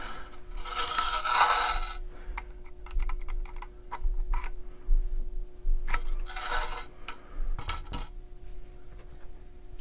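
The adjustment wheel on a Frankford Arsenal Perfect Seat hand priming tool clicking in bursts of small, crisp ticks, close and fairly quiet, with brief scraping handling noises in between.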